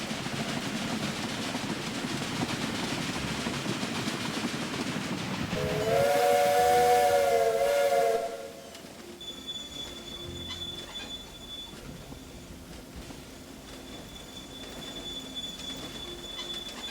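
Trains running in the industrial rail strategy game Rail: a loud rolling rumble with a steam whistle blowing for about two seconds, then quieter clattering traffic with a faint high squeal of wheels continuing underneath.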